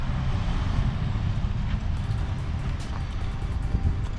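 A farm truck pulls away during harvest in light drizzle, a steady low engine rumble with broadband road and wind noise holding at an even level throughout, no talking.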